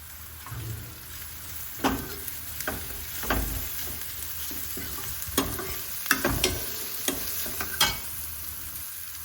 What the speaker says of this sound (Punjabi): ਹੁਣ ਆਪਾਂ ਇਹਦੇ ਵਿੱਚ ਪਾ ਦਈਏ ਪਿਆਜ਼